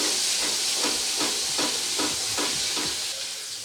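Rui fish tomato curry masala frying and being stirred in a pan, a steady loud sizzle and hiss with rhythmic scraping strokes of a spatula repeating about every third of a second, continuous throughout.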